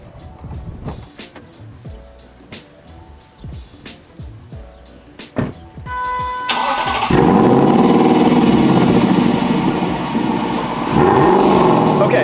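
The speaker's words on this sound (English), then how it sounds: "what you hear there is a flat plane crank, naturally aspirated V8 engine" A 2023 Lexus LC 500 with a naturally aspirated 5-liter flat-plane-crank V8 cranks and fires up midway, settling into a loud, steady idle after a few quieter mechanical clicks.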